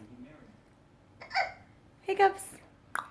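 A small child hiccups a few times in quick, uneven succession, close and clear against a quiet room, with faint child vocal sounds between.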